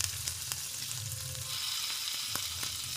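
Paneer tikka cubes frying in oil over a low flame give a steady, soft sizzle with a few sharp ticks of a utensil turning them, heard alone and close.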